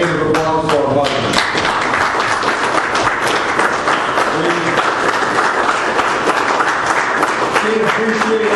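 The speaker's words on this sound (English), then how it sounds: "let's stand up and just give a hand of applause for our budget" An audience on its feet gives a round of applause at a morning gathering: dense, continuous clapping at an even level throughout, with a voice and some tonal sound briefly audible beneath it near the start and end.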